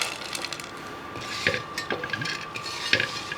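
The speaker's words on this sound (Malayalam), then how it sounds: "ഇതിപ്പോൾ ഞാൻ ഒന്നിച്ചങ്ങ് വറുത്ത് കോരുന്നേ ഉള്ളൂ" Ingredients for aval vilayichathu are fried together in a pan, with a soft background sizzle broken by irregular metallic scrapes and clinks of a stirring spoon against the pan, close and without talk.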